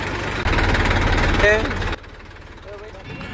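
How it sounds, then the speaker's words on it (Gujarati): A tractor engine runs with a loud, rough mechanical rumble that drops to a quieter steady drone halfway through, with a voice talking over it. "અમે ટ્રેક્ટર લઈને જઈએ છીએ બધી જગ્યાએ ફરવા માટે"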